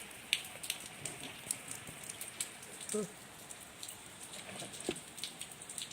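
Rain falls steadily around a house with a wet concrete yard, a soft continuous patter with occasional closer drips, while someone talks over it.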